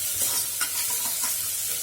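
Onions frying in a pan, an even crackling sizzle close by with light stirring scrapes.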